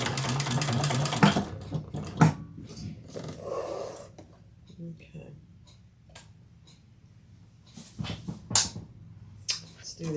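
A sewing machine bastes connectors onto a bag at an eighth-inch seam allowance, short bursts of rapid stitching, the first at the start, then a few later, separated by quiet handling sounds.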